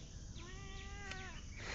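A cat lets out a soft, drawn-out meow lasting about a second, faint and close against a steady background hiss, with no talking.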